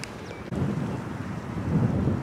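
Steady wind rumbling and buffeting a microphone outdoors on the Dubai Creek golf course, a headwind on a par 4, a low roar that swells louder toward the end.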